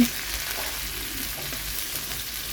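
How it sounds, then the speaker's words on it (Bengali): Chopped green chilli and onion frying in oil in a home kitchen pan, a steady soft sizzle with faint stirring scrapes, fairly quiet and unbroken throughout. "কাঁচামরিচ আর পেঁয়াজ কুচি বেজে নিচ্ছিল"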